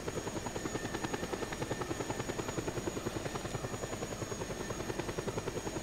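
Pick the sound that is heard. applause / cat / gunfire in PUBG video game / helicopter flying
helicopter flying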